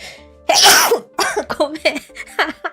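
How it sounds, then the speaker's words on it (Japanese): A single sharp sneeze bursts out loud and close near the start, followed by a person speaking a few short apologetic words. "くしゃみ出ちゃう。"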